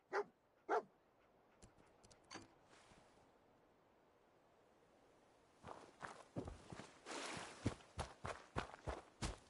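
Dogmeat, the canine companion in Fallout 4, moves along tracking a scent, with soft paw steps and padding footfalls growing louder and busier near the end, a few faint earlier thuds, and no talk.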